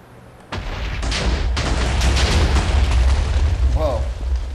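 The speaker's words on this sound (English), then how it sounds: "biggest explosion ever made, known to man" Huge in-game explosion played at a LAN party: a sudden deep boom that swells into a sustained rumbling roar for several seconds, with a brief voice near the end.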